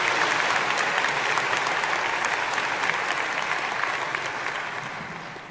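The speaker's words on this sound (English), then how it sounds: "Let's give Dr. Oreskes a round of applause." A graduation ceremony audience at UBC Vancouver gives sustained, dense applause that fills the hall evenly and fades slightly toward the end, with no voices over it.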